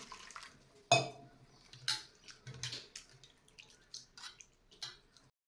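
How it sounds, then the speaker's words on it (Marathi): Water splashing and sloshing in a bowl as a handful of flattened rice (poha) is rinsed, with a few sharp knocks of a vessel and scattered clinks and drips. "एक मुठभर पोहे घ्यायचे आहेत आणि हे पोहे स्वच्छ धुवून घ्यायचे आहेत"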